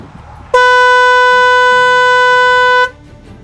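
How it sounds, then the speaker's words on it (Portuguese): A steady horn from a stationary car blares loud and continuous for about two seconds, a single unbroken tone with no change in pitch. "O tom da buzina com o carro parado é este."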